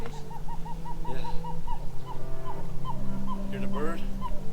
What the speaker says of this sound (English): Hear the bird?